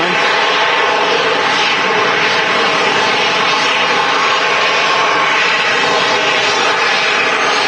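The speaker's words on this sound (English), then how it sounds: "Sun Express 737 vacating." A SunExpress Boeing 737 jet clearing the runway at Manchester Airport produces a steady, loud, broadband engine roar with a sustained whine that holds constant throughout.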